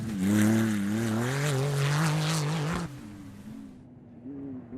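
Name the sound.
rally cars racing at St George 399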